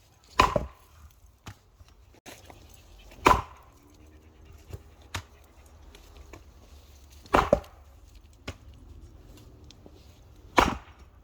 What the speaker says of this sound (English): Now we'll give her a couple whacks with the old iron axe.